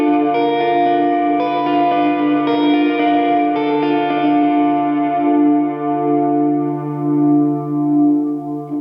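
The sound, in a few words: Walrus Audio Slö reverb pedal, Rise function changing reverb speed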